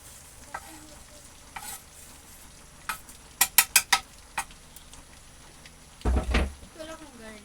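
Chili peppers drop into a pan and set off a sizzle. Sharp clanks and scraping stirs from cookware come before it, and the sizzle builds into a louder burst near the end.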